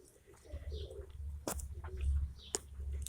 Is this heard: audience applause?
no